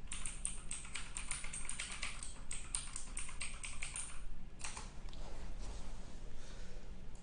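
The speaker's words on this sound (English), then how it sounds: "He's typing something." Someone types on a computer keyboard in quick, steady clicking runs with a brief pause midway, soft and close.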